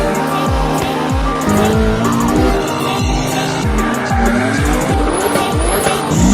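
A supercharged widebody Scion FR-S drifts hard with loud, repeated rhythmic engine revs and continuous tire squeal, close and aggressive, with a few higher screeches of rubber near the end.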